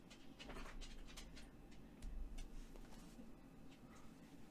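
A dog pants rhythmically close by, with faint whimpers mixed into the quick, breathy panting at low volume.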